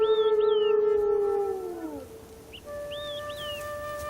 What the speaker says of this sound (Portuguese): Seus uivos assumem um aspecto melancólico, de busca, como se tentassem chamar Motoki de volta.